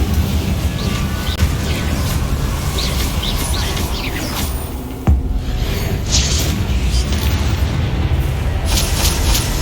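An Incendio fire spell blast in Hogwarts Legacy battling Inferi, a loud booming burst mid-scene over a dense, roaring game soundscape with chirpy magical effects, and no speech.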